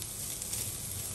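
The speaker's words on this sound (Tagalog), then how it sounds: "Nagisa ako ng bawang, sibuyas, tapos konting yan, sili." Garlic, onion and chili sizzle in a pan as the base for a prawn curry, a steady, soft, close frying hiss with no voices.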